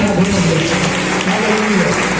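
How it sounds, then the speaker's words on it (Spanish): Church congregation giving a loud round of applause during a sermon, dense clapping mixed with voices calling out, brief and close. "Denle un fuerte aplauso a Dios"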